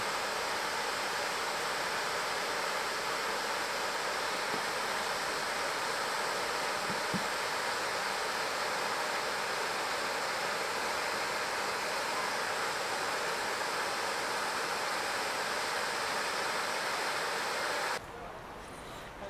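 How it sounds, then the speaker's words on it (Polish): Waterfall near Pazin in Istria, heard as a steady, dense broadband roar of falling water, loud and continuous throughout, cutting off abruptly near the end. "taki wodospad."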